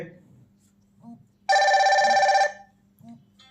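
A phone and a Fire-Boltt Ring 2 smartwatch ring together for an incoming call, a loud electronic ringtone burst lasting about a second amid quieter background sounds.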